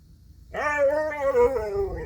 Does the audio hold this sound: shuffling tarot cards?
no